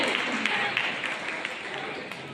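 An audience applauds steadily to welcome a female singer on stage. The continuous, moderately distant clapping forms an even wash of sound with faint voices mixed in.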